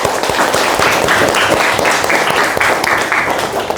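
Classroom of students clapping after group presentations, close, loud, rhythmic hand claps in a quick steady beat that continues throughout.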